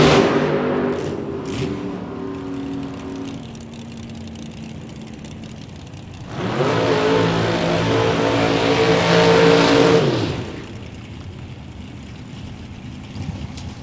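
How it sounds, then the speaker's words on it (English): Two cars, a dragster and a Chevy II, launch at a drag strip bracket race, their engines roaring loud and close for several seconds, then fading to a lower rumble while engines idle around them. "Jace Nicholson in the dragster dial 442 and Chris Galitti in the Chevy 2."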